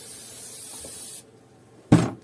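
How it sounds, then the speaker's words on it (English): WD-40 sprays in a steady, close hiss over the cylinder head of an Opel Vauxhall 1.8 16v engine, cuts off, and then a second short, sharp blast follows. "I'll just spray"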